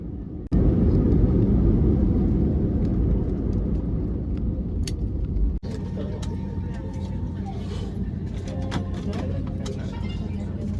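An airliner landing in Chennai fills the cabin with a loud, continuous engine and airflow rumble that suddenly thumps and drops to a lower, steadier roar partway through, with muffled cabin sounds and voices after.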